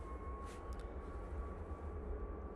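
A Ryanair jet departing Manchester Airport for Fuerteventura produces a faint, distant, steady engine rumble with a thin whine above it, continuing without a break.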